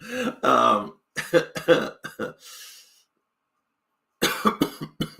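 Several harsh coughs and throat noises come in short bursts, a pause of near silence, then another rapid cluster of coughing up close.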